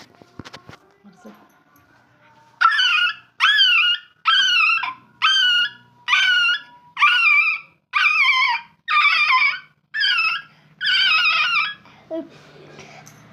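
A child mimics a puppy's whimpering cries with a run of about ten high, wavering yelps, evenly spaced and close, after faint clatter at the start, and ends with a short lower sound.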